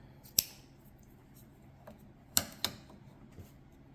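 Scissors snipping light pink yarn at the end of a crochet amigurumi flamingo piece: a few sharp, brief clicks, the strongest near the start and a close pair later, alone in a quiet room.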